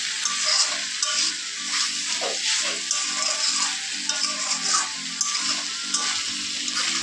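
Soya chunks fry in a pan with a bright, constant sizzle, close by. Occasional stirring and scraping sounds rise over the hiss.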